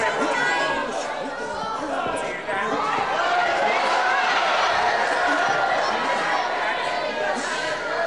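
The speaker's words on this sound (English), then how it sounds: "You know what the crowd are shouting about?" Wrestling match crowd in a hall, a steady roar of shouting and chatter that stays loud and dense throughout, with a commentator's voice running under it.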